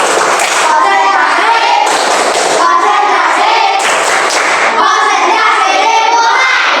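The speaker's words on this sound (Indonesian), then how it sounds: "Ya, tepuk konsentrasi dulu." Schoolchildren in a science class perform a rhythmic concentration clap, loud patterned bursts of hand claps in repeating phrases with young voices chanting along close by.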